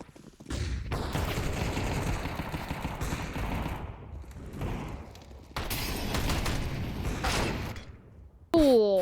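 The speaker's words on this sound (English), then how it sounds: "Oh, what are these shots, bro?" Gunfire in a competitive esports shooter match, Chinggis Warriors versus Rare Atom, with loud bursts of rapid automatic fire in several volleys separated by short pauses and a brief mechanical whir at the end.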